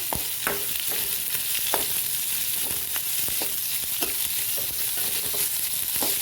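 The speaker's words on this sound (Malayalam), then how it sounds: "ചുവന്നുള്ളി കുറച്ചിട്ടു സബോള ഇട്ടു ഇനി ഇതൊന്ന് വരന്ന് വരണേ" Shallots and sliced onions sauté in a pan for cabbage upperi, with a loud, constant crackling sizzle and irregular clicks of a spatula stirring against the pan, close by and with no one talking.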